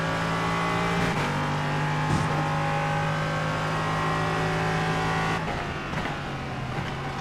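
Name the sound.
race car engine in iRacing video game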